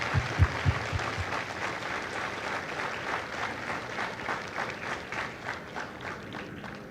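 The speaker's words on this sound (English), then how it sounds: "please join me in a round of applause for the families of Lima Company" Sustained applause from a crowd at a Marine Corps recruit graduation ceremony in San Diego, honoring the families of Lima Company; steady dense clapping with a few close, louder claps near the start, continuing throughout.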